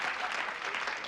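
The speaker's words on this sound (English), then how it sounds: "Applause break." A stand-up comedy audience breaks into dense, continuous applause, with a steady wash of many hands clapping at once.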